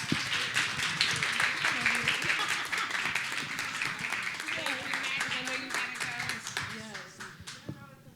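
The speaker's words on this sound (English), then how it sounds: "let's give this panel a round of applause" An audience at a keynote event claps continuously for several seconds for a panel while voices chatter and talk over the applause.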